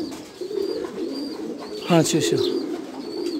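Pigeons cooing at a rooftop loft, a low rolling coo rising briefly above steady background murmur while a man calls out and talks to the birds.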